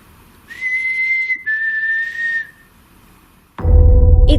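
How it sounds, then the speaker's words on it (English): Clear whistled tones in a haunted grotto during a paranormal investigation: two sustained whistles about a second each, followed by silence and then a sudden loud noisy burst. "It's not uncommon to hear whistles on paranormal investigations as a form of communication from the spirit."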